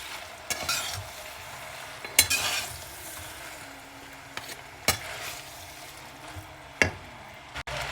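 Yellow noodles stir-fried with carrot and potatoes in a wok, a soft continuous sizzle punctuated by several sharp scraping and clanking strokes of a utensil against the pan.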